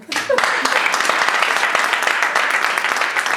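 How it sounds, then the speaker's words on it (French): An audience at an Afro hair day fashion event bursts into dense, loud applause, a steady wash of many hands clapping close by for a few seconds with no voices over it. "Applaudissez très très fort."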